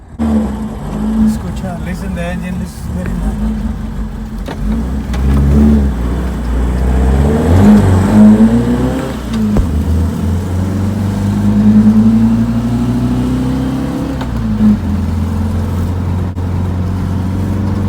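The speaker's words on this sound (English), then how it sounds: "listen the engine, this is very nice" A 1970 Volkswagen Karmann Ghia's small air-cooled engine idles and revs up and down nearby, loud and throaty, with a brief rise in the middle before settling back.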